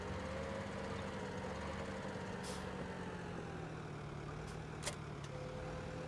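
Steady low drone of a tractor engine idling in a farming simulator game, constant and moderately quiet throughout, with a couple of brief faint clicks.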